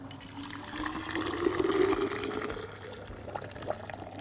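Water is poured into a container to make pickling liquid for cauliflower and carrot pickles, a close, steady gurgling stream that swells in the middle and then tapers off.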